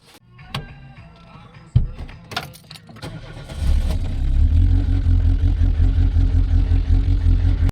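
Keys jingle and a few clunks, then a rental car's engine cranks and catches, settling into a loud, steady rumble close by.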